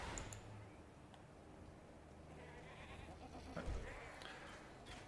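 Goat monsters in Path of Exile bleating faintly amid game combat noise, a few short wavering cries spread through the clip with a low thump near the end.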